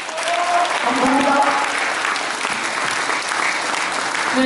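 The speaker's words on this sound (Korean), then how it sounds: "다시 한번 뜨거운 박수 부탁드립니다" Audience applause at a party founding convention in a Gumi wedding and convention hall, a sustained burst of many hands clapping, loud and dense, with a voice speaking over it.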